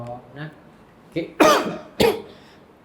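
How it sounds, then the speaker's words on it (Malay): A sharp cough bursts out twice in quick succession, loud and close, following a brief word from someone speaking during a religious lecture. "Batuk pun dia bunyi macam tu."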